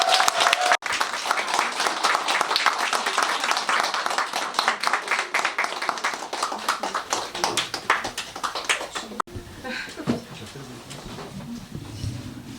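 Audience applause at a Korean talk event, dense and loud clapping from a crowd sustained for about nine seconds, then cut off and followed by quieter room noise and a few scattered taps.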